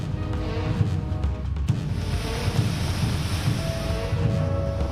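Heavy rain and strong wind lash the Juhu area of Mumbai during a storm, a steady rushing, hissing wash of noise with low gusty rumble and no voices.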